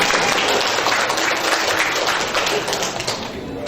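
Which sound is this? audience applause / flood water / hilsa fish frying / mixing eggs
audience applause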